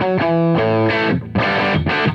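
Electric guitar played through a Karma ODR-10 overdrive pedal into a Divided by 13 amp, loud sustained distorted chords rich in harmonics, struck in several separate bursts with brief gaps between them.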